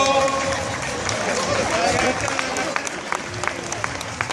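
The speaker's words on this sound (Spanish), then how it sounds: "ese fortísimo aplauso" A crowd at the Vigo half marathon applauds loudly, the clapping blending with crowd noise while an announcer talks over it and scattered sharp claps stand out near the end.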